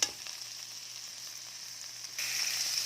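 Ground meat fries and browns in a pan for ginataang papaya, a faint steady sizzle that grows louder and brighter near the end, with no talking.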